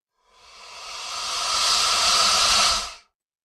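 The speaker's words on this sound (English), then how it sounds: "That is the sound of a crocodile." A crocodile gives one sustained, breathy hiss that swells over about a second, holds steady and loud, then cuts off abruptly, alone with no other sounds.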